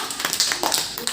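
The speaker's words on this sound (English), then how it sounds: "Clap to them please." Children in a phonics class clapping along to words, a few quick, close, scattered claps in an uneven rhythm over about a second.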